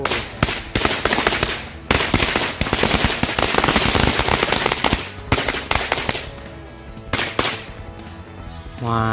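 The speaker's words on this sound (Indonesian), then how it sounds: "kita nyalakan satu gepok mercon korek ya" A bundle of matchstick firecrackers goes off in a rapid, dense barrage of sharp pops and cracks, loud and close, thinning to scattered bangs near the end.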